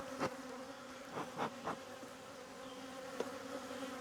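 Honeybees at an open hive during an apiary inspection hum steadily at low level, with a few louder buzzing passes as individual bees fly close by, no talking.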